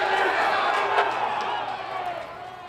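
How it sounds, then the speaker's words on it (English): Hundreds of soccer fans packed into a bar for a World Cup watch party make a steady, dense roar of crowd noise, loud and continuous with scattered shouts rising above it. "the crowd was rocking this afternoon as hundreds of soccer fans packed Rosie's Bar and Grill"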